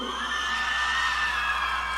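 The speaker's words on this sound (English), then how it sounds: "they really are being very competitive with the screaming" A school award ceremony audience screams and whoops in a sustained, loud, high-pitched roar of crowd voices, competing with one another for the full two seconds.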